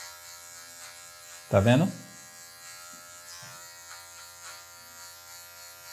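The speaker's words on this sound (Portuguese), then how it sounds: "Vou usar a ponta da máquina aqui para tirar algumas partes, ó." Electric hair clippers set to zero cut hair during an American-style men's haircut, giving off a steady, close buzzing hum the whole time while someone speaks briefly over it.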